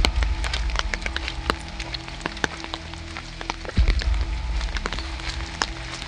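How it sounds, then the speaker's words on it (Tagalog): Steady night rain patters and crackles with scattered sharp drops striking a surface, plus a low rumble underneath; no voices. "Umuulan dito mga kayoyo."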